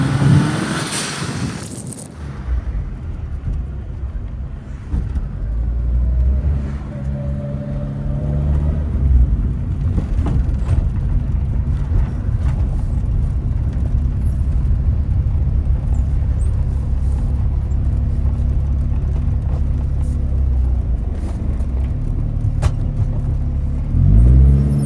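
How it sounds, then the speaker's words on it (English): A BMW E30 engine bucks and surges while warming up, a steady loud low rumble with uneven pulses and revving swells throughout, close and with no talking. "Nope, it still needs to warm up."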